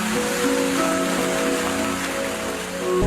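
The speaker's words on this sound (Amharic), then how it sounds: "አወይ ዝናብ መጣ" Rain starts to fall as a steady, dense hiss of drops hitting the ground and nearby surfaces, heard close and continuous without speech for a few seconds.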